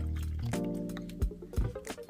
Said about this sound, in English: So we're gonna close and we're gonna pour a little bit of milk,